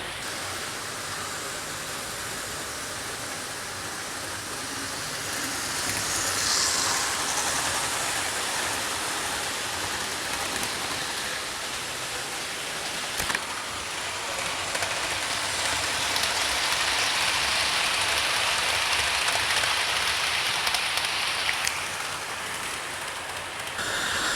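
Hornby Virgin InterCity 125 model train running along a layout with a long consist, a steady hissing whir of wheels and motor that swells slightly midway and holds at a moderate level throughout.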